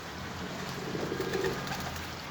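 Soft cooing of a pigeon or dove, a brief low call heard faintly through steady background noise.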